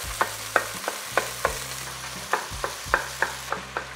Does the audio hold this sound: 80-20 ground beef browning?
yes